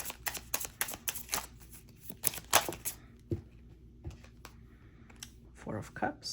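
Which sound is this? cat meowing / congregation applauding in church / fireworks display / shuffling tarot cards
shuffling tarot cards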